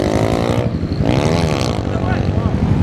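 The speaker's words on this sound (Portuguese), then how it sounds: "é muita moto" Many motorcycles rev and roar together at a wheelie stunt event in Jaguaré, a loud, close, overlapping drone of engines with rising and falling throttle pitches.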